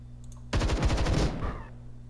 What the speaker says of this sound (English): let me take some shots here first